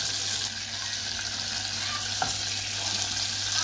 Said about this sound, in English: All the garlic going into the butter.